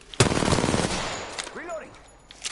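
Dense automatic gunfire in Apex Legends rattles loud and close for about a second, then gives way to scattered shots and game effects, with a voice speaking in the mix.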